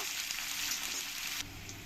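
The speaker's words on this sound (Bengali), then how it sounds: "দিয়ে দেবো আমি এই পেঁয়াজ কুচানো লাল করে আমি ভেজে নেব" Chopped onion frying in a pot for duck curry gives a constant close sizzle, with a slight drop in level near the end and no talk.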